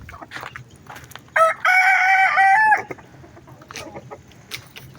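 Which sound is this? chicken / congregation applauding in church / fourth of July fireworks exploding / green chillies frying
chicken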